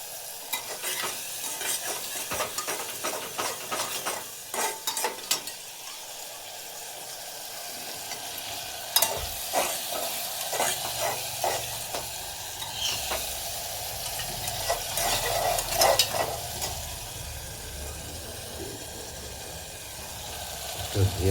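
Coriander leaf chutney stirred in a hot pan right after water goes in, steady sizzling and frying hiss with repeated scraping strokes of a utensil, close up, with occasional speech underneath.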